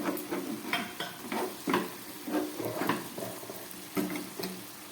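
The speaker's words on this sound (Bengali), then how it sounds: "একটু শুধু এটাকে প্যানটাকে একটু নাড়িয়ে দিলাম, যাতে সাইডের জলগুলো শুকিয়ে যায়" A utensil stirs lote fish cooking in a pan, scraping in a steady rhythm of repeated strokes over a soft sizzle as the liquid at the sides cooks off.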